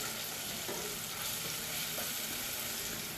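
Whole cumin seeds and bay leaves sizzle steadily in hot oil in a pan, close and fairly loud, with a few soft scrapes of stirring and no voices.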